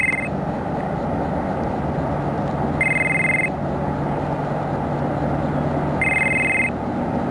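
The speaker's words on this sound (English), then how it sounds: "See, my phone's ringing." A mobile phone rings outdoors at a campsite near water in Mobile, Alabama, giving three short electronic ring bursts spaced a few seconds apart over steady background ambience and hiss.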